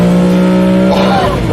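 A BMW E46 M3 CSL on Isle of Man roads, its engine holding a loud, steady high-revving note with strong harmonics, then shifting pitch as it changes load near the end, close and dominant.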